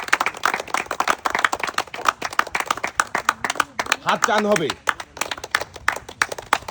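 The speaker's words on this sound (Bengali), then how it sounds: "সবাই একটা জোরে তালি হবে" A crowd at an outdoor contest of holding up an iron football claps loudly in a dense, continuous burst of many hands, close and sustained, while someone talks over the applause.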